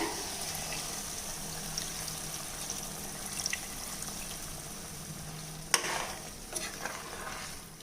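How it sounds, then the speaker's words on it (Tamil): A low, continuous bubbling simmer of chicken gravy after hot water is added, with faint sizzling, broken by a brief clatter of a utensil near the end; quiet and without speech. "நம்ம வெந்நீர் விட்டதால் உடனே வந்து கொதி பிடிக்க ஆரம்பிச்சிருச்சு"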